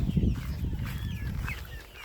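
A young bantam rooster on a farm, close by, making soft clucking sounds over a steady low background of farmyard noise with no speech.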